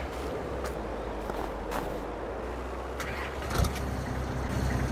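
Ford F350 pickup in Farming Simulator 22 with its engine cranking and catching, then a steady low rumble idling close by, with a brief louder surge near the end.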